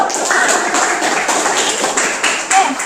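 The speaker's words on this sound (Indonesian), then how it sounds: "tepuk tangan dong buat" Students in a school classroom clap together in a short burst of quick, overlapping hand claps, close by and fairly loud, with some voices underneath.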